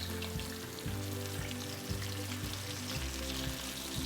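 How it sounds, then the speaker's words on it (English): Catfish fillets fry in hot shortening at 350 degrees, giving a steady close sizzle with faint rhythmic bubbling pulses and no talking. "you're gonna get it to a hot temperature of 350 degrees. And we're gonna put in our fish fillets."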